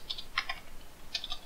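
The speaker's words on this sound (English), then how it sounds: "So let's try typing" Short bursts of keystrokes on a computer keyboard, three quick clusters of clicks spread across a quiet moment, close and fairly soft, with no talking.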